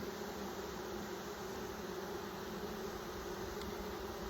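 A swarm of honeybees leaving a package box at an outdoor hive makes a dense, continuous buzzing hum, steady and close throughout.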